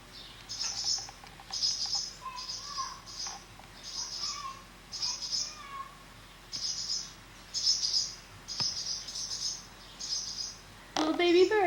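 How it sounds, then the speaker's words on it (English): Baby birds in a nest in Fairview, Texas chirp in repeated short bursts of high, thin peeps, fairly close and moderately loud, with brief pauses between calls across the whole stretch. "Little baby birds."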